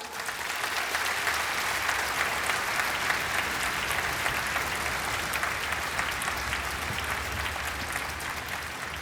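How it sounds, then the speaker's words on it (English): Sustained applause from a school concert audience at a gala celebrating women composers, a dense, even wash of clapping that holds steady for the full stretch without talk. "Let's give them a big clap."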